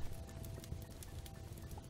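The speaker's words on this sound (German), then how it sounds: "Was, ein Pferd?" Hooves of a horse in the video game Starbound clip-clop in a faint, steady rhythm over a low game backdrop, with no one speaking.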